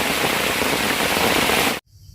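Heavy rain pours down in a mountain forest in Trat, Thailand, during a mushroom-foraging trip: a loud, dense, steady hiss that fills the scene close by, then cuts off abruptly just before the end, with no voices.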